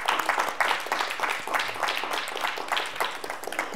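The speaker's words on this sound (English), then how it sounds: "Let's give her another round of applause." Audience applause at a keynote talk, dense overlapping clapping from a crowd, steady and moderately loud throughout with no clear break.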